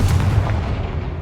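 A Confringo fire spell bursts in the Hogwarts Legacy video game, a loud, dense blast with deep rumbling low end that sustains steadily through the short moment without pause.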